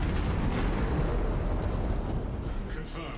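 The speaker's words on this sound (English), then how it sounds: "Detonate the charges now." Detonated charges in the shooter game Space Marine 2 erupt as a loud, sustained rumbling blast that fills the whole stretch, fading only slightly toward the end.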